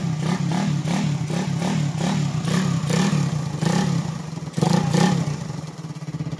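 Motorcycle engine from Bohol, fitted with a pipe and cams with compression release, blipped in a rhythmic series of short revs, close and fairly loud, ending in a sharper burst before settling.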